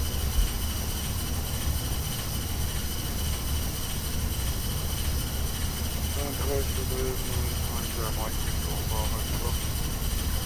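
Airbus A321 jet engines in a flight simulator spool up with a little thrust to start taxiing at Munich, giving a steady, loud broadband roar throughout, with faint chirps and voice traces under it.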